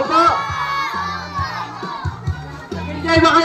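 At a party, a crowd of children shouts back in loud, excited bursts, several cheering waves overlapping a host's prompts.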